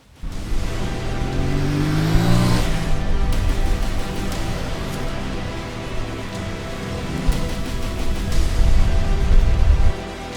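A Moto Morini X-Cape 450 adventure motorcycle engine runs steadily during a test ride, with revving swells and wind rush, loud and close throughout.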